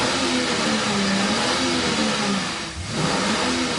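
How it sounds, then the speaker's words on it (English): A Chevy Camaro engine roars loudly outside the New York Stock Exchange, holding a heavy, rumbling rev before dipping briefly and surging again, close and continuous with no voices over it. "The opening bell cut short for the sound of a roaring Chevy Camaro engine."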